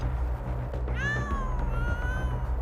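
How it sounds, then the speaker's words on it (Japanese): A cat meows once in an episode of the anime Chainsaw Man, a clear, rising-then-falling cry over a low background hum. "Oh, so there is actually a cat."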